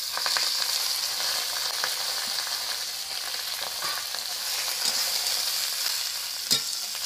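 Bottle gourd leaves fry in oil with crushed garlic and two dried chillies, giving a continuous close sizzle with soft stirring scrapes and one sharper clack near the end.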